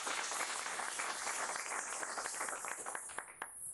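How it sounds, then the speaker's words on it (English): Audience applause for the city clerk at the Berkeley City Council inauguration: a steady, fairly faint wash of many hands clapping that runs unbroken through the whole stretch. "I would love to ask for a round of applause for our city clerk"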